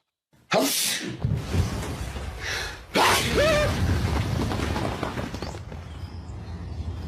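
A sudden loud sneeze bursts out, then a second sharp sneeze a few seconds later, with breathy noise in between.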